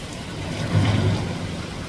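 Heavy rain pours down during a flooding storm in Jeddah, a constant hiss swelling briefly as a low, muffled thunder rumble rolls through the middle, with no voices.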